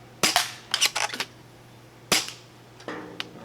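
A Flip Flop Foam Rush foam dart blaster fires a quick burst of sharp, close snapping shots, then a lone shot, then a softer final one. Outdoors, no voices.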